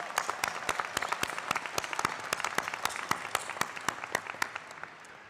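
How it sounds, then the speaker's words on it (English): An audience at the RMIT University 2022 graduation ceremony in Marvel Stadium applauds, a steady patter of many distinct hand claps that holds at moderate loudness before thinning slightly at the end. "Oh yeah, round of applause."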